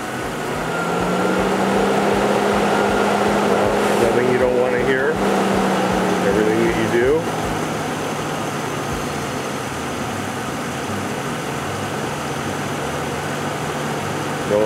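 A Mercedes S550 engine turns over and settles into a steady, smooth idle, a low constant hum heard close under the hood with a brief rise near the start.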